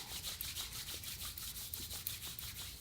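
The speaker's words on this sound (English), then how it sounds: "Rub your hands nice and warm." Hands rubbed briskly together to warm them during an upper-body warm-up before meditation: a close, steady run of quick, even strokes with no talking.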